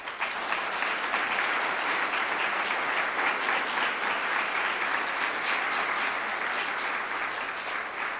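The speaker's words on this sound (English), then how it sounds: "let's go through one last round of applause for the local" A large audience at a conference closing plenary applauds the local organizing committee, with dense, sustained clapping holding steady and loud throughout.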